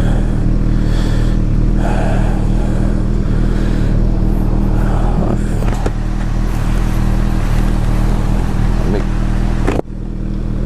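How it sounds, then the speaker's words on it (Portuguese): A Ducati motorcycle engine runs loud and steady close by, a continuous low rumble with slight swells, while people talk over it; the sound cuts off sharply near the end. "monstra, monstra essa moto, cara"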